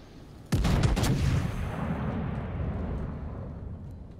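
A tank main gun fires in an online tank battle game: one sudden loud boom followed by a long rumbling decay and a faint echo, with no voices.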